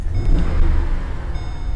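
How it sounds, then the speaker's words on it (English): A surplus Chevrolet Caprice 9C1 engine idles roughly with a stumble, giving a close, steady low rumble with slight unevenness and faint chime tones over it. "It is running rough. Got a stumble to it."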